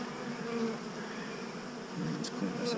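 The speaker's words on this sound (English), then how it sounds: "Good looking bees." Honeybees from an overwintered hive hum in a close, steady, loud buzz during a hive inspection, with a couple of brief sharp ticks near the end.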